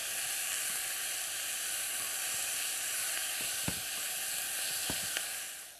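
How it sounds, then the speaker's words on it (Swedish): Lamb sizzles steadily in a hot pan with fresh thyme and white pepper, a continuous close hiss broken by a few sharp pops and crackles, with no talking. "nu rostar vi på det ordentligt."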